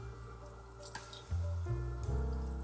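Red wine marinade with herbs pours into a cooking pot, giving a soft trickling and splashing that grows fuller partway through, with low kitchen hum underneath.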